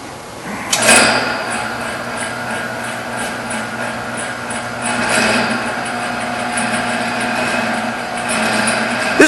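A Monarch EE 10-inch by 20-inch tool room lathe switches on with a sharp clunk, then settles into a steady motor and gear drone that swells slightly as it runs.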